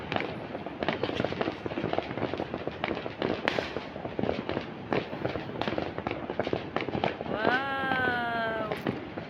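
Dense, continuous crackling bursts of New Year fireworks and big firecrackers going off near and far, with people talking and exclaiming over the noise and a rising whistle near the end.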